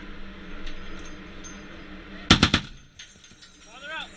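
An M2 Browning machine gun fires from a US Navy ship: a short burst of about four sharp, loud shots in quick succession, following a stretch of steady ship and wind noise, with faint chirps trailing afterward.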